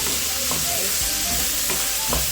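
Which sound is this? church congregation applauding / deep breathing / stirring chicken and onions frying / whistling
stirring chicken and onions frying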